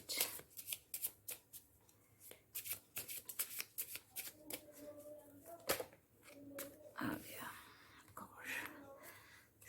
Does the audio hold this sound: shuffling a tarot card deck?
yes